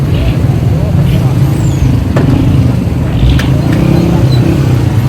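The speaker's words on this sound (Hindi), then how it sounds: "ये इंजन है जनाब," The engine of a 2009 Suzuki Cultus that runs on both petrol and gas idles with the bonnet open, giving a loud, steady, close-up hum with a few faint clicks.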